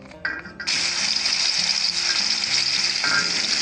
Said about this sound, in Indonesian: Panaskan minyak, kemudian masukkan bumbu yang kita ulek tadi.